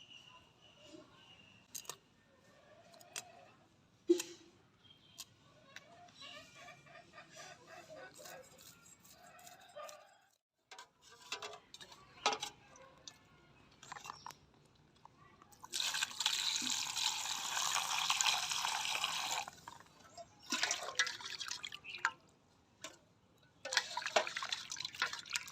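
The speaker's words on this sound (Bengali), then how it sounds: "এইভাবেই বাকি মাছগুলো আমি কেটে ধুয়ে নেব।" Running water splashes and trickles steadily over freshly cut fish being washed in a village kitchen, a loud broadband rush lasting several seconds, with quieter drips and clatter before it.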